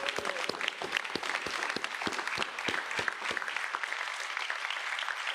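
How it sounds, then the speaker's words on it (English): A room of attendees at a gun safety briefing in New York City claps for community groups, a dense, steady round of applause with sharp individual claps standing out near the front. "Can we give them a hand clap,"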